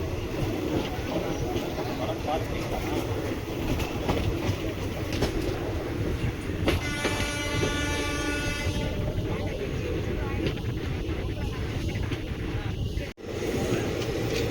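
A Chennai suburban train to Arakkonam rumbles past on the tracks with a steady roar and rhythmic clatter, and a horn-like tone sounds partway through.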